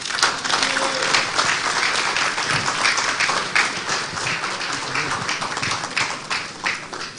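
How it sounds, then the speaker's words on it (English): An audience at the NDDC youth internship launch in the Niger Delta claps in steady, dense applause for the whole stretch, with faint crowd murmur underneath. "Please a resounding round of applause for the Managing Director and CEO NDDC, Chief Samuel Obuku, PhD"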